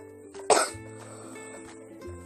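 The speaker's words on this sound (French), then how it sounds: "Cette toux elle commence par m'énerver." A single sharp cough, fairly close, followed by a low steady hum in an otherwise quiet room.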